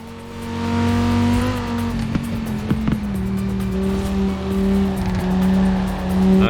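Engine of a car driven in the racing game Forza Horizon 4, a loud steady drone with rising and shifting revs and brief sharp knocks, no talk.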